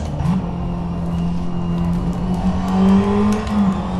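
A race car engine drones and revs up through the gears in Assetto Corsa, loud and close, with a steady tone that climbs in pitch and swells near the end, no voices.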